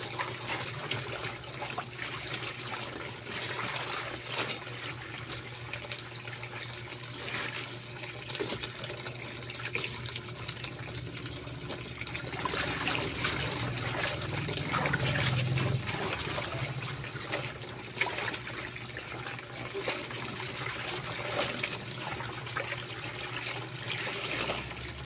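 Rinse water for washing a school uniform runs and trickles steadily into a basin, a continuous moderate splashing flow throughout.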